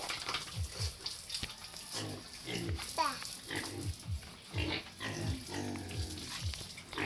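Pigs on a farm grunt repeatedly in short, low rhythmic bursts at close range, with a person talking over them.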